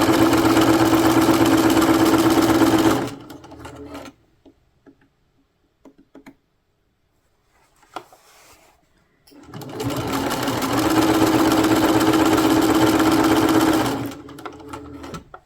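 Sewing machine stitching through three layers of fabric for a project bag, running in two steady, close bursts of about three and five seconds, separated by a quiet pause with faint handling noises.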